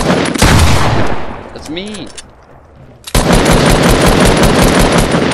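Rapid automatic gunfire bursts from a video game, loud and dense, with a brief lull and a voice speaking before the shooting resumes in a sustained roar.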